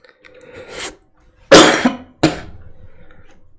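Two hard coughs close to the mic, preceded by a softer throat sound, then quiet.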